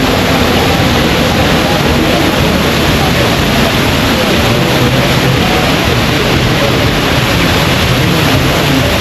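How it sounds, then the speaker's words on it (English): A waterfall in Barcelona gives off a steady, loud, broad roar of rushing water that fills the whole span without a break. "Waterfalls are beautiful."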